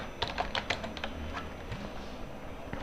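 Quick, light keystrokes tap on a computer keyboard, a short run of clicks near the start that fades to a few isolated taps.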